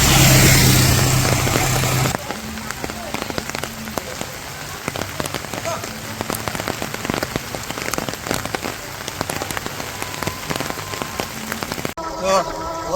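Steady heavy rain pours in a village on a rainy day, a dense close patter drumming on surfaces throughout, with a brief louder rush at the start and a shift near the end.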